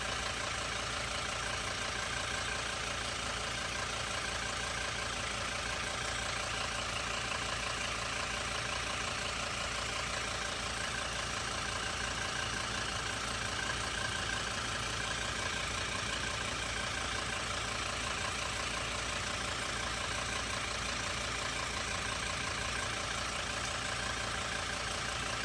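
A van engine idles steadily, a continuous even hum with no revving or change across the whole stretch, fairly close and alone.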